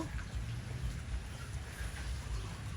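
Steady rain falling outdoors, a dense, even hiss of drops with a low rumbling undertone, continuous throughout with no voices.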